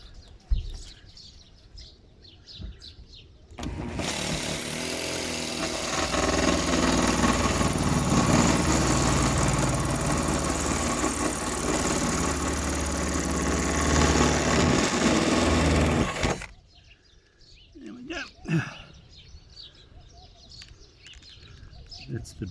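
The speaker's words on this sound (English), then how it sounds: "I've got a new one put in the drill, and let's see if we can finish this hole." A power drill grinds loudly and continuously for about twelve seconds, a hole saw chewing through a van's metal body, with quieter handling noises and birdsong before and after.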